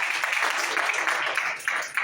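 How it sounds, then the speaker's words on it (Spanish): A church congregation at an apostolic doctrine seminar claps in uneven, pulsing bursts, moderately loud, with a voice speaking over the applause. "Bríndale un aplauso al Señor por esa intervención."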